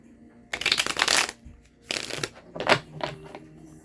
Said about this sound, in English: we're almost done shuffling. We have about 2 shuffles left